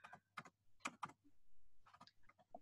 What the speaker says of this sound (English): I'm just typing out my